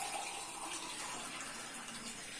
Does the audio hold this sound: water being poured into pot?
yes